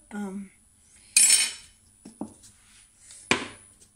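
A spoon stirs ingredients together in a cooking pot, with a few separate metallic clinks and scrapes spread over several seconds, close and sharp against near silence.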